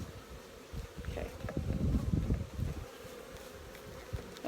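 Bees in a queenless hive buzz steadily and close, a dense humming drone that swells louder in the middle and then eases back, with no talk over it.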